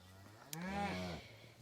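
A protective cow in a calf shed lets out a single deep, loud moo that swells and then fades, close by and alone against a quiet background.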